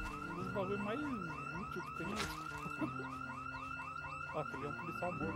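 A car alarm in the zombie video game Project Z blares continuously, its repeating warbling and whooping cycles loud and steady while someone talks over it.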